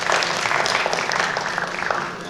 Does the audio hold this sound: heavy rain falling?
no